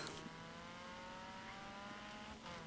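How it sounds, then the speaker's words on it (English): A racing car engine holds a steady high whine in Forza Horizon 3, with a brief dip and shift near the end suggesting a gear change. "Oh, the gear changing in this car sounds so nice."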